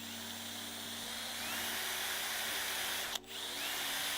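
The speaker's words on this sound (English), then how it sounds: "so we start off with a very small drill bit." A power drill fitted with a small bit whines steadily as it bores into a car's boot lid, ahead of a rear wing install on a BMW G87 M2 or G42 M240i, with a brief dip near the end.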